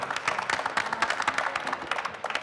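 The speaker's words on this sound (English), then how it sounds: "Give these guys a round of applause." An audience gives a short, fairly faint round of applause after a cannabis industry talk, scattered claps pattering quickly with no voices on top.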